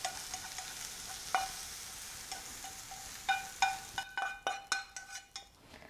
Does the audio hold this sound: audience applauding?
no